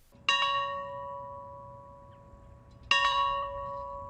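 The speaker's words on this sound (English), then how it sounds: "And there, a bell tolled 39 times, saluting America's 39th president." A church bell tolls in salute to President Carter, two clear strikes a few seconds apart, each ringing out with a long, slowly fading hum, heard from a moderate distance in a quiet outdoor setting.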